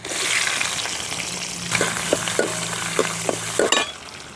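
Onions fry in groundnut oil with urad dal and garlic, a strong sizzle that quiets partway, then a run of distinct spoon taps and scrapes against the pan close by.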